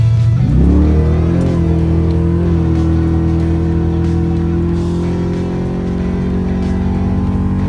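A Chevrolet Malibu drag car makes a pass, its engine roaring loud and close as the revs climb sharply, then holding a heavy, steady drone under wide-open throttle.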